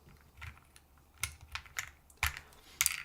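Typing on a mechanical keyboard with swapped keycaps gives a run of irregular, crisp clacks, some single and some in quick clusters, close and fairly quiet.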